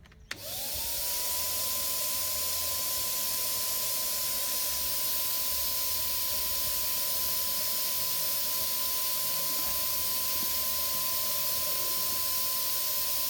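Wagner Flexio 690 paint sprayer switching on and running while spraying wooden beehive boxes, a loud continuous hissing whine with a steady pitched tone that holds unbroken for over thirteen seconds after a sharp start.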